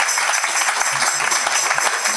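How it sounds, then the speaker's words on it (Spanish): A church congregation claps together in a sustained, fairly loud round of applause during a Spanish-language sermon, the dense patter running evenly throughout. "Dele un aplauso al Señor con todo su corazón."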